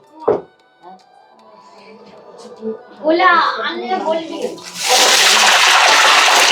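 Water poured into hot cooking oil in a village home kitchen erupts into a loud, steady broadband sizzle that holds to the end, following a stretch of nearby talking.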